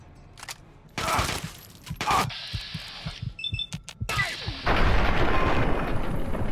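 Gunfire rings out in the Fallout 3 video game as several sharp, loud shots and bursts crack over game sound effects, with a player's voice talking between them.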